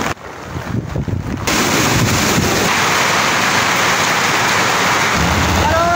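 Heavy typhoon rain from Typhoon Kristine pours down steadily, mixed with gusting wind, a loud, dense roar that is briefly muffled at the start and then holds without a break.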